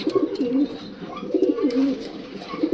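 Short face pigeons coo close by in a loft, a pair of rolling low calls repeating in quick cycles, steady and fairly loud with light background noise.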